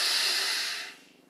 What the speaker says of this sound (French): On prend maintenant une grande inspire.